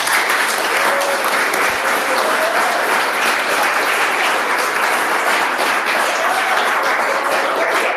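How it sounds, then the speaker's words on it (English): An audience applauds for presenters and judges at a rural startup pitch event, a dense, steady wash of clapping that holds at full strength throughout. "let's give all the presenters and our judges a big round of applause"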